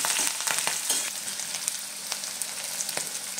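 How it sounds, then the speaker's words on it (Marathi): Green chillies and curry leaves frying in hot oil make a dense, crackling sizzle close by, steady throughout with scattered small pops and spits. "आता आपल्याला ह्याच्यामध्ये हिरव्या मिरच्या घालून घ्यायचं आहे, कढीपत्ता, चांगला असं फ्राय करून घ्यायचं आहे आपल्याला"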